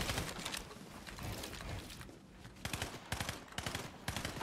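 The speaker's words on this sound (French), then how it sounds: "Regardez la tourelle automatique" An automatic turret in an Unreal multiplayer game fires in rapid bursts of gunshots, sharp repeated cracks clustering into volleys, with no talk over them.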